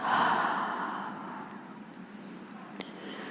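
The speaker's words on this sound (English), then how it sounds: "take a big inhale and open the mouth, exhale out" A deep breath exhaled through an open mouth during a guided meditation, a loud breathy rush at the start that slowly fades into a long soft tail, close and alone with no talking.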